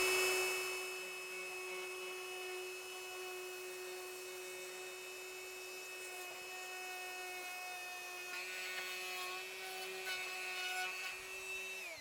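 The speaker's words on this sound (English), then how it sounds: "Die grinder straight down there." A die grinder cutting into a rotten timber window frame gives a steady, high-pitched whine that holds for the whole stretch, with a grinding rub as the bit bites into the soft wood and a brief rise in pitch toward the end.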